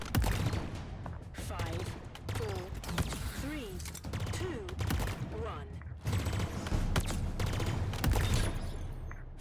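Rapid weapon fire in the video game Halo Infinite, heard as bursts of quick shots with whooshing effects, a voice talking over much of it.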